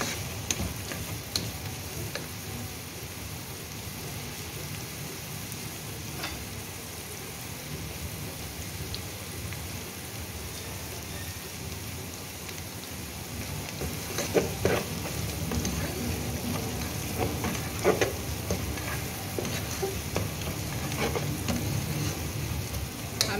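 Aloo keema masala sautés in a pan, dhaba style, giving a steady, close hiss and sizzle that runs unbroken and grows slightly busier and crackly toward the end, with no talking.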